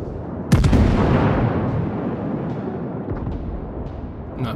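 Naval guns fire in a World of Warships battle, one sharp, heavy boom that rolls into a long fading rumble, with faint later thuds and clicks.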